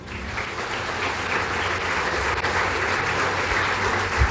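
A church congregation applauds Christ during a sermon, a broad, sustained roar of many people clapping at steady loudness throughout, with no voices over it.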